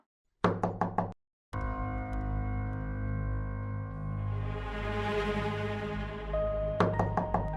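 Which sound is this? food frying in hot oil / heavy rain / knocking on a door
knocking on a door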